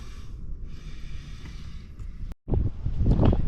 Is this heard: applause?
no